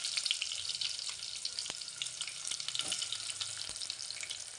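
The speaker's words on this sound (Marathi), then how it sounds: "मी पातेलं ठेवलं त्याच्यात टाकते कांदा" Onion tipped into a hot cooking pot, a soft, steady sizzle and crackle with a few faint clinks, fairly quiet and without speech.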